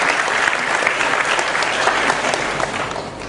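Audience applause at an Indonesian anti-corruption event, steady dense clapping from a crowd filling the whole stretch without a break, loud and close, easing slightly toward the end.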